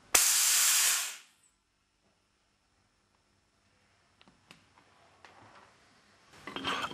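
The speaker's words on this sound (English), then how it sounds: "Release the compressed air." A loud hiss of compressed air vents from an Alfa Laval Unique SSV valve during maintenance, lasting about a second before cutting off, followed by faint ticks and small handling knocks.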